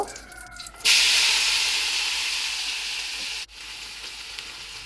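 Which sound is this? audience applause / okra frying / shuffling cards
okra frying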